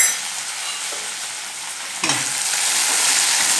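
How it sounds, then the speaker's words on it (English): Mint leaves fry in hot oil in a pan, a close, continuous crackling sizzle that swells sharply as they hit the oil partway through. "I'm going to just fry the mint leaves, which I have cut and washed and kept it."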